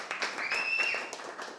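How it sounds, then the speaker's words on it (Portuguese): Audience applause greets a guest arriving on a podcast set: a brief, dense burst of clapping with a high whistle rising over it, fairly loud and close. "Uma salva de palmas."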